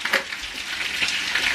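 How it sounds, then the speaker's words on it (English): Jerk chicken sizzles and crackles steadily in a frying pan after about five minutes of cooking, a close, loud hiss with scattered pops and no talking. "this jerk chicken's been cooking for about 5 minutes in the pan"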